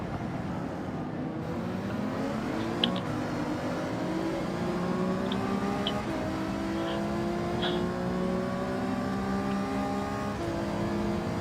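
A car engine revs in Gran Turismo 7, a steady loud drone whose pitch climbs in repeated sweeps through the gears, heard alone without talk.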